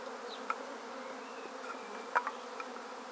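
Honeybee swarm buzzing steadily while worker bees fan near the gathered queen, a continuous moderate drone with a few brief louder buzzes from bees passing close.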